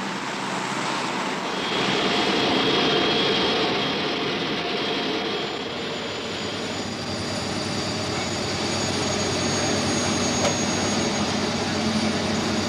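Transport aircraft engines from a 1978 military operation in Gabon produce a steady, loud jet roar with a faint high whine, holding constant throughout with slight swells in intensity.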